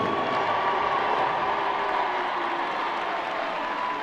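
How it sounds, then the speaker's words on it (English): A Lincoln crowd and bench applaud as a hat-trick scorer is substituted off during a university football match, giving steady, dense clapping with a faint crowd murmur, heard from a distance and sustained throughout. "To a standing ovation by the bench and the Lincoln crowd"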